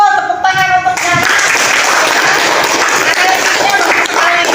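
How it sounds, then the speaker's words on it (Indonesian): A classroom of students claps loudly and steadily after a voice at the start, the applause filling the rest of the clip. "Tepuk tangan untuk Jana."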